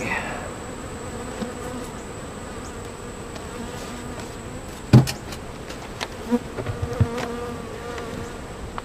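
Honey bees buzz steadily around an opened hive being boxed up after inspection, with a few sharp knocks and taps of equipment partway through.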